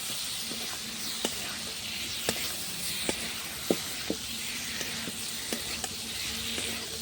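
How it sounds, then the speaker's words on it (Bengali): Fried prawns are stir-fried with spices in a pan over a clay stove, a close continuous sizzle with regular sharp ticks of a spatula striking the pan every half second or so. "এবার দেবো ভাজা চিংড়ি মাছগুলো, এটাও একবার কষে নেবো।"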